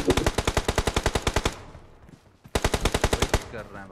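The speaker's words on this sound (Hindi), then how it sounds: "ऊपर से भी फायर आ रही है, फायर आ रहा है ना ऊपर से भी" Automatic gunfire in the mobile battle royale game PUBG Mobile, two loud rapid bursts of evenly spaced shots separated by a short quieter pause, sharp and close.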